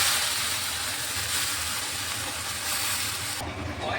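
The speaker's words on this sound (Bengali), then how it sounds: "এখন আমি এই যে কুচিয়ে রাখা শাকটা দিয়ে দিচ্ছি" A steady, loud hiss of sizzling oil fills the clip without pause, as wet chopped taro leaves hit the hot pan.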